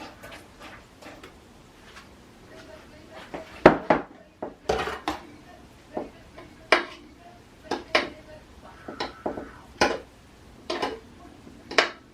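A pan is handled in a kitchen while grease is poured off a meatloaf, with scattered clanks and taps of metal cookware, a few louder knocks, and quiet moments between them.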